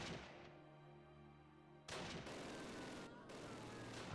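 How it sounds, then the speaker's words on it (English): Mortar fire in the Close Combat war game: a heavy, sustained blast with a booming low rumble, followed by loud broadband crashes of explosions and gunfire that fill the rest of the battle. "Goddamn mortars"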